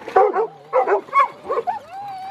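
Several dogs yip and bark in quick, uneven bursts close by, with a whimpering whine rising at the end.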